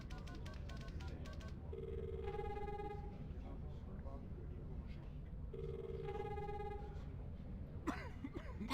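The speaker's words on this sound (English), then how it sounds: "That's just my incoming call." Two repeated electronic ring bursts of an incoming videophone call in the video game The Longest Journey play quietly over a steady game-music and ambient bed.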